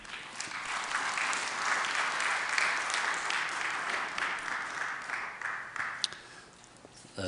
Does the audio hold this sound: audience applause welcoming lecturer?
yes